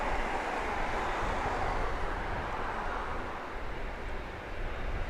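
An aircraft at Grand Cayman airport gives a broad, steady engine roar that fills the whole stretch, loud and constant with only slight swells.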